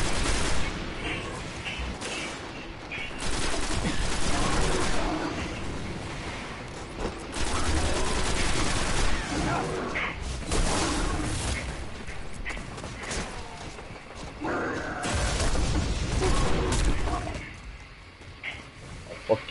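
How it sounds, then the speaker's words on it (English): Missiles fired at the player in the shooter game Destiny, a dense, continuous barrage of blasts and gunfire with booming impacts lasting nearly the whole stretch. "stop shooting missiles at me."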